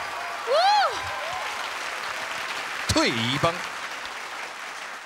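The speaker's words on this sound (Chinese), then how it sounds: "掌声鼓励。" A steady wash of audience clapping for a retired military honor guard on a TV variety show runs beneath two brief bursts of talking by show hosts.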